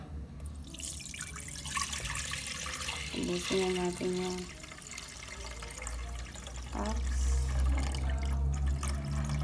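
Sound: pouring coconut milk and water into a pot

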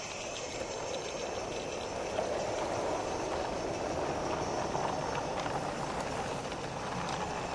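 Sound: narrow gauge ore train passing

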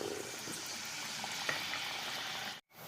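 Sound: pitha cakes frying in oil

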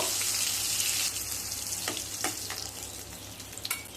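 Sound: frying pointed gourd (potol) in oil

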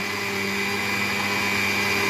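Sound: mixer grinder grinding spices

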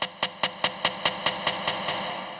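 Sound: snare drum roll in a dubstep build-up

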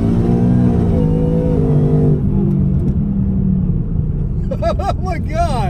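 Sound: Whipple 3.0 supercharged 2018 Mustang accelerating hard

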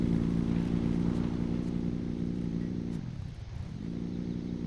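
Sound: vehicle engine running in Scrap Mechanic video game

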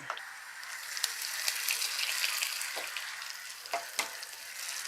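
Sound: tempering sizzling: fenugreek, mustard, shallots, curry leaves in oil

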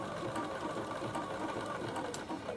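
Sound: Bernina sewing machine stitching a bag

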